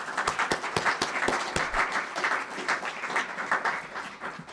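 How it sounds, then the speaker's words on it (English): Audience applause fills a Michigan Golf Hall of Fame induction ceremony, a dense, steady patter of many hands clapping at close range that holds throughout without speech. "Give him a round of applause."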